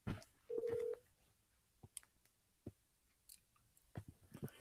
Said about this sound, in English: I'm going to call Monty, see what Amani has to say